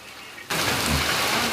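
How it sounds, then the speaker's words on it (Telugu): Rain pours down in a village, a dense, steady hiss that bursts in abruptly after half a second of near quiet and stays loud and even to the end. "ఇప్పుడైతే వర్షం వస్తుంది, చూద్దాం ఇక ఏమవుతుందో."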